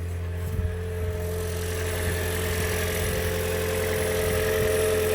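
Toyota Auris Hybrid engine idling steadily after a jump start, a constant low hum with mechanical vibration running evenly throughout at moderate level.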